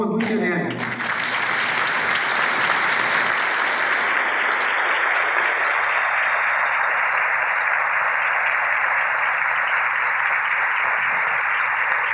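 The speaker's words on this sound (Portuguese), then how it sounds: "com uma salva de palmas muito enérgica" Loud, vigorous applause from a large crowd at a business partner meeting's opening, building quickly and sustained at full intensity, with a few voices mixed in.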